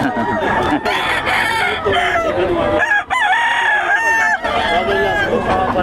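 Several fighting-cock bullstags crow loudly and repeatedly, overlapping one another, with clucking between crows at a Pampanga gamefowl sale; close and busy, with faint voices in the background.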